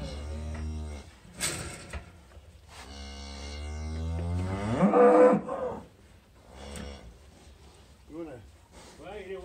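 A cow moos several times, close by, during farm work while a calf is being moved. The long, deep calls swell into a louder bellow midway, with brief gaps and quieter low sounds between them.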